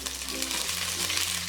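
Frozen ginger garlic paste dropped into hot oil for a chilli salan sizzles and fries steadily, a close, continuous hiss with no talking.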